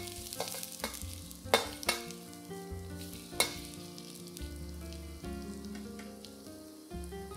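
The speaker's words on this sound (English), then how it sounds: "When the oil is hot, add in the garlic and ginger. Cook this for about 30 seconds until they are fragrant." Garlic and ginger sizzle steadily in hot oil, a continuous crackling fry with a few sharper pops and clinks of a utensil stirring through the wok.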